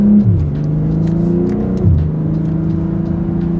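An all-wheel-drive car accelerates hard with paddle-shift gear changes, its loud engine note climbing steadily, then dipping at a shift before pulling again, close and continuous with no talking.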